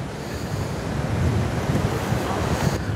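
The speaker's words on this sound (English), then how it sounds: "I'm down here at the beach, got a little bit of surf." Ocean surf breaking on a beach where kayaks launch and land, a continuous loud roar of waves washing ashore mixed with buffeting wind noise on the microphone.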